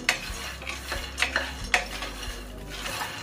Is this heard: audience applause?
no